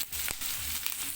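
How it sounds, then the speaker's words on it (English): Cow tripe frying in a pan until brown and crunchy, giving a close, steady crackling sizzle with a few sharper pops over about a second. "So I'm frying our tripe until they turn brown or they're crunchy."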